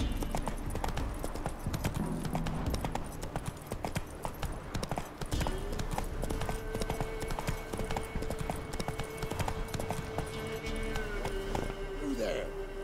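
Roach, the horse in The Witcher 3: Wild Hunt, gallops at a steady, rapid clip-clop, with a short whinny near the end, layered under game music and ambience while voices talk over it.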